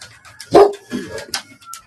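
Dogs bark at the mailman in several sharp, close woofs and yips spread over a couple of seconds, with brief quiet gaps between them.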